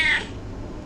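A single brief meow from a cat, close and clear, heard alone.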